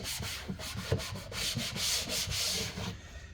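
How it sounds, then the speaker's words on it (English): A hand briskly rubs a pinball art blade to warm it, producing a close, continuous friction swish with rapid back-and-forth pulses that fade out at the end, no voices. "Just get a little warmth in there by rubbing it."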